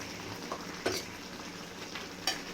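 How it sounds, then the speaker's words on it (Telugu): A spoon stirs fried dried shrimp and eggplant into a simmering tamarind gravy, with a soft sizzle underneath and a couple of brief scraping clinks of the utensil against the pan. "ఈ గ్రేవీలో మడపేలన్నీ ఈ విధంగా మిక్స్ చేసుకొని"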